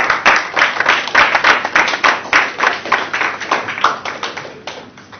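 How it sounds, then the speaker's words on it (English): Hall audience at a young professionals' gathering claps loudly and close by, a rhythmic wash of hand claps with individual sharp claps standing out, gradually thinning toward the end. "Please, a round of applause for him."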